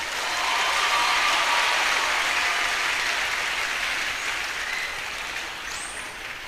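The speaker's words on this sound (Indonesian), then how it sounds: "Tepuk tangan ya tepuk tangan" An audience at an Islamic sermon on pesantren life claps in a dense, sustained wash of applause that swells early, then slowly thins out, with no talking.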